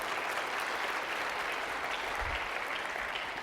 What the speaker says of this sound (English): Let's give them a round of applause because they are enabling.